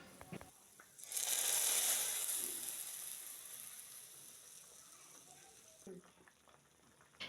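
Fried onions hit a pan of vegetables with a sudden loud sizzle that gradually fades into softer frying, followed by a few light clinks and stirring noises.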